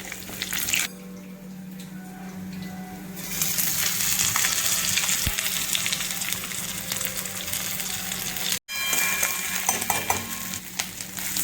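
Garlic and ginger fry in a pan for a special dal, a loud, steady sizzle with stirring that swells after a few seconds, briefly cuts out near the end, then resumes.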